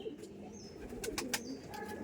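Madras pigeons at a home loft coo softly in a low murmur, joined by a few sharp chirps and brief flutters, fairly faint and close.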